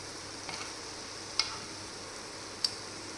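Khoya and bread sweets fry steadily in hot oil over a medium-low flame, a soft continuous sizzle broken by two small crisp ticks.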